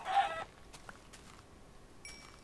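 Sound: chicken clucking in Minecraft video game

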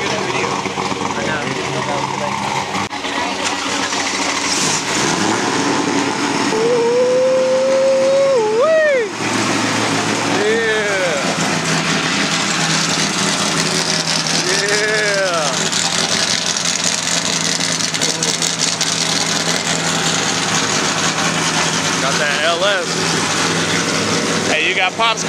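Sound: car engine starting and idling

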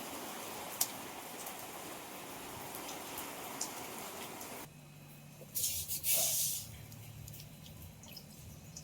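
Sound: rain falling

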